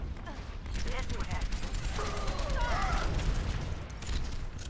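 Rapid gunfire in an Overwatch match, with dense bursts of shots layered over a busy game mix while a voice talks over it.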